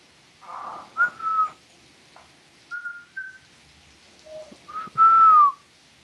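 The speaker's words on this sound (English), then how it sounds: "let me practice my whistling" A person whistles a series of short, thin notes and rising and falling slides, fairly close, with gaps between phrases and one longer final note.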